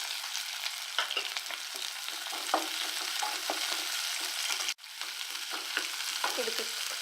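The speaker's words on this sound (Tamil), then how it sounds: "அவத்திக்காய் பொரியலை தாளிச்சிடலாம். எண்ணெய் ஊற்றிக்கிறேன். கடுகு போட்டுடலாம்." Mustard seeds, urad dal, chana dal and onion crackle and sizzle in hot oil while tempering for an agathi kai (sesbania pod) poriyal, with a steady frying hiss and many small pops, close up and without talk.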